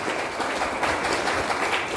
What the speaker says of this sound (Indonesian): Tepuk tangan pada tim.